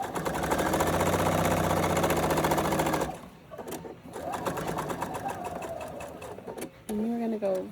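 A sewing machine runs steadily while stitching the fabric of a drawstring backpack, loud and close for about three seconds, then stops. A voice talks afterwards over quieter background noise.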